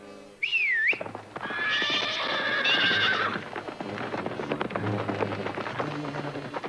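A cartoon horse gives a loud, close, wavering whinny, then gallops with rapid clip-clop hoofbeats that continue steadily under a swelling musical score for several seconds.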